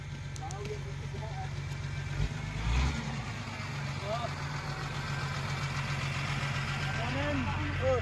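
A legendary blue jeep's engine idles in a steady, low rumble that runs through the whole stretch, with people talking over it and a brief louder thump partway through.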